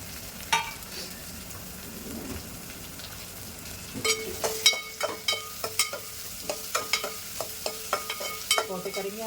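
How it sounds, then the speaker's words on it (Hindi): Green chilli, garlic, carrot, baby corn, capsicum and onion stir-fried in a pan, with a scattering of scraping stirs and clicks over a low sizzle, growing busier and louder in the second half. "सौटे करेंगे हम अच्छे से इसको।"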